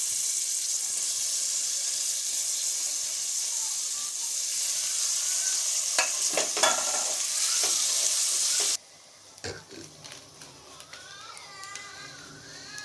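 Ginger and garlic sautéed in a pan, a loud steady hiss of frying that suddenly drops to a quieter crackle, with intermittent stirring scrapes and clinks close by.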